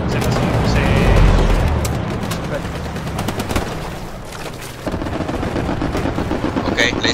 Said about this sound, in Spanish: hay gente por acá, escucho los disparos